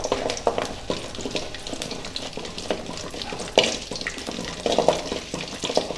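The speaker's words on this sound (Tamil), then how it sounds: "எண்ணெயிலே 1 நிமிஷம் நல்லா வதங்கட்டும்" Garlic cloves and a small piece of chopped ginger sauté in hot oil for mint chutney, sizzling and frying steadily up close, with stirring scrapes and clinks throughout.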